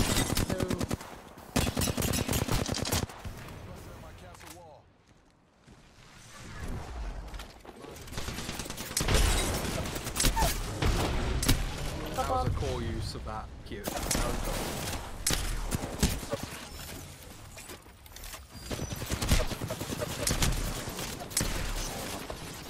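Rapid gunfire from the shooter game Apex Legends, dense automatic bursts crackling loud and near across most of the stretch, with a short quiet gap before shooting resumes.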